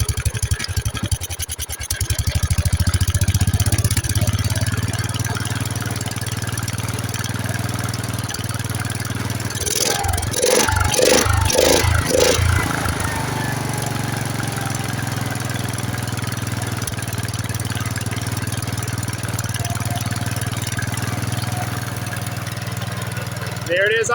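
A Wheel Horse Raider 14 garden tractor engine chugs steadily and then settles into an even idle, with a brief burst of rattling knocks midway. Voices can be heard faintly over the running engine.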